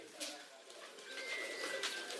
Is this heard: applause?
no